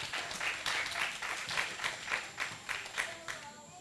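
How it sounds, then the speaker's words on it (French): Audience at a live broadcast event applauding, with a steady wash of clapping that swells in rhythmic bursts throughout and fades slightly toward the end. "Et puis, on vous applaudit très fort."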